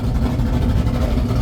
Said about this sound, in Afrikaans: Dis die ingang. Dat die karre nou inkom hierso.